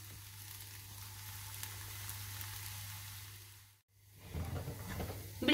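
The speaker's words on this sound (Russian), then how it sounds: "Перевернули на другую сторону и поджариваем вторую сторону." Gluten-free crepe batter sizzles softly in a frying pan as a crepe cooks on its second side, a low steady frying hiss that briefly drops out and then returns with some stirring or handling noise.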